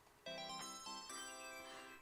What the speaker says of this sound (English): This is my ringtone whenever people text me.